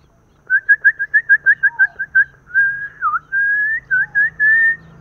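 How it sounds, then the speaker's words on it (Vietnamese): A young yellow hwamei sings loud, clear whistled notes up close, opening with a quick run of about ten short repeated chirps and then moving into longer sliding whistles and a few more short bursts. "Quần quạch vàng thì tiếng kêu của nó rất là khủng nha anh em,"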